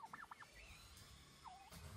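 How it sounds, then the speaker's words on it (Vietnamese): An albino turkey gobbles in short warbling bursts, with a couple of quick rattling calls early and another rolling gobble near the end, fairly close and loud over faint background noise. "Gà Tây nó về rồi."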